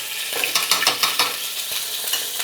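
Mexican chili relish hits hot oil in a non-stick pan for a bright, crackling sizzle, with a quick run of rhythmic stirring scrapes in the first half.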